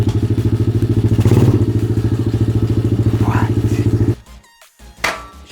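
A cheap Amazon dirt bike's small engine runs in gear with a steady, rapid pulsing putter, loud and close, for about four seconds before cutting out abruptly; a brief spoken exclamation and a thump follow.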